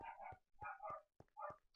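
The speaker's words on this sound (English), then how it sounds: "My dog is just going ballistic." A dog barking frantically in the background, several sharp, yelping barks in quick succession, fairly faint and distant in a quiet room.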